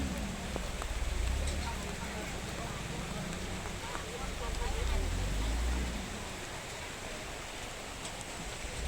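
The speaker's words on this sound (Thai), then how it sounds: "ฝนตกนะครับนี่ฝนตกฮะ" Steady rain hissing down on rice fields in a broad, even wash of noise, with low rumbling swells rising and fading twice.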